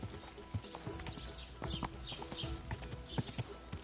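Steady clip-clopping of horse hooves from the video game Kingdom Come: Deliverance, a brisk rhythmic trot heard close and clear over light background noise, with no talking.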